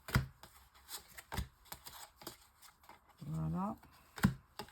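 Angelic answer oracle cards are shuffled and drawn from a deck, giving soft papery flicks and taps scattered between the words of someone speaking close by, with a brief hum in the middle.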